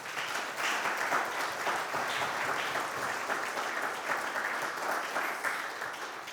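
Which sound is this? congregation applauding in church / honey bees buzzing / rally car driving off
congregation applauding in church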